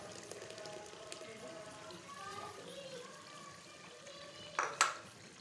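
Masala with tomato paste sizzling and frying in a pan while making murgh chana, a soft continuous crackle with a brief louder burst of sizzle near the end.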